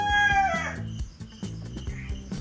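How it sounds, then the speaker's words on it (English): A rooster crows once loudly and close, its call trailing off, followed by a series of soft clucks and short rustling sounds. "I'm looking for a place with not too many roosters in the trees."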